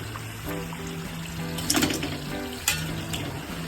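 Water runs and splashes into a container, a steady trickling stream with a couple of sharper clinks, close up and without talk.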